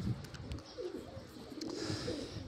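Pigeons coo softly outdoors under an overcast, humid sky after morning rain, faint low calls repeating at a distance against quiet background noise.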